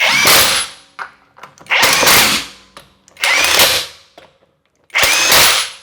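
A power tool on a Chevrolet Colorado drives 12mm brake bolts in four loud, close bursts of whirring and rattling, separated by short pauses and small clicks.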